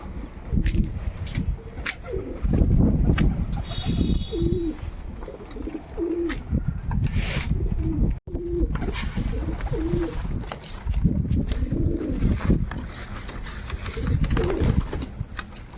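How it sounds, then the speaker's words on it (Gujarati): Pigeons coo repeatedly in a soft, rhythmic series nearby, with flapping and shuffling sounds around them. "આપણે આ બધા કબૂતરને"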